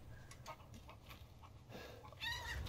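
Chicken clucking in the video game Resident Evil Village, a few soft scattered clucks over a low murmuring background, with a louder, sharper call near the end.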